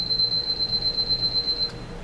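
Piercing electronic alarm of a Seiko Cayuga QXE043BLH wooden mantel alarm clock, a quick run of bright, evenly spaced beeps that cuts off shortly before the end, heard alone and close.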